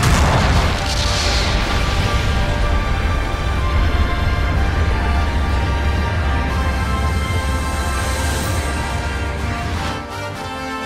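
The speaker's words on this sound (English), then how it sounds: "The mobile suit has been destroyed!" A mobile suit is destroyed in Gundam Battle Operation 2, setting off a loud, heavy explosion with a rumbling boom that starts at once and roars on with a long, slowly fading tail.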